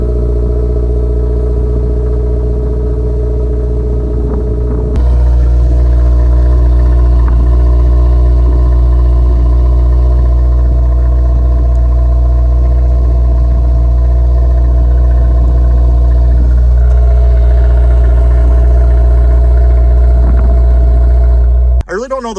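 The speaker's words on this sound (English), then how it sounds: "the exhaust on this car, it actually sounds pretty good for a stock muffler on it" Steady low rumble of a 2022 Subaru WRX exhaust with stock muffler idling, deep and constant, with a slight shift in tone partway through and a brief cutoff at the end.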